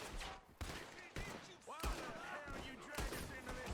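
Pump-shotgun blasts from the Red Dead Redemption 2 video game ring out as several sharp, separate bangs spaced across a few seconds, with game sounds and faint voices mixed underneath.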